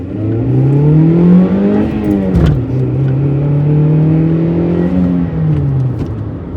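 A 2005 Toyota RAV4 with about 150 horsepower accelerates hard on the road, its engine droning loudly in the cabin with a rising pitch, a brief dip at a gear change, then climbing again.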